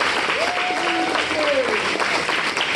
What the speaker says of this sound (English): A round of applause for our maestro, music.